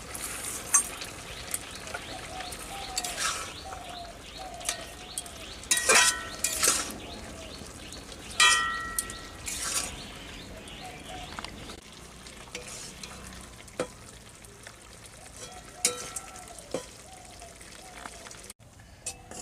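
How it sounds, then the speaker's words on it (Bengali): Small fresh puti fish curry with bottle gourd greens bubbling and sizzling in a pot, with occasional stirring scrapes and clinks over a steady close simmer. "মাছগুলোকে দিয়ে আরও কিছুক্ষণ এটাকে ফোটানো হবে"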